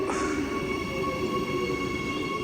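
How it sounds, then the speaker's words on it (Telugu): Metro train passing at a station in Australia, a steady rumbling roar with sustained tonal whine from the wheels and motors, continuous and moderately distant with no talk. "ఇదే ఇక్కడ మెట్రో"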